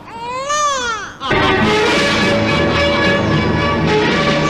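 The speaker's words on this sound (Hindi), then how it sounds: "बच्चे के रोने की आवाज सुन रहे हैं आप?" An infant wails with a rising, wavering cry in an episode of the Shri Krishna television series, then the crying continues loudly beneath a dense wash of music and bells.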